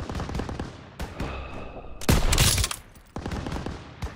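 Rapid bursts of machine gun fire in a Call of Duty WW2 street battle, loud and close, with dense rattling volleys and sharp explosive cracks overlapping shouted battlefield chatter.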